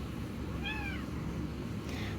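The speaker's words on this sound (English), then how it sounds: "My cats are meowing in the background." Pet cats meow in the background of a home, two short, faint calls a second apart over a steady room hiss.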